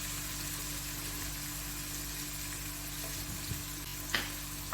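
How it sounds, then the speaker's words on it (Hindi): Ginger and garlic fry in a pan of oil while cooking crispy potato barad, a steady dense sizzle with a low hum underneath and a few faint stirring knocks near the end, no voices. "बस इसको सिर्फ थोड़ा सा फ्राई करना। इसी में डालूंगी अदरक और लहसुन"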